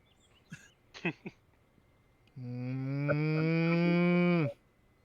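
A voice imitates a cow mooing in a tabletop role-play game session: a few short vocal sounds, then one long, loud, steady moo of about two seconds that cuts off sharply.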